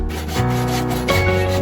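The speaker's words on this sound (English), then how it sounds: "The end can be quite prickly, so I sanded it from where it was cut." Sandpaper rubs back and forth over the cut end of a wooden broomstick, a close, continuous scratchy rasping with no talking.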